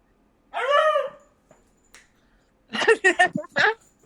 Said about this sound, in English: He's trying to get Sadie to play. And Sadie's the lazy old dog who wants to sleep.